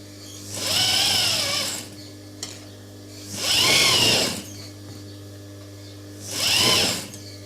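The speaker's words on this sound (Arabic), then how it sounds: "هذا راح نخيطه" Sewing machine stitching a qandoura dress, running in three steady bursts of fast whirring separated by short quiet pauses, close and fairly loud with no talking.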